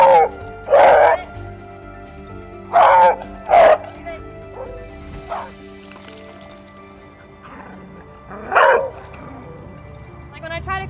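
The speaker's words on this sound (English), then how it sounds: "when he barks, you're gonna tell him to leave it" An aggressive dog barks close by in loud, sharp bursts: one, then a quick pair, then a single bark after a longer pause. Quieter background noise fills the gaps between barks.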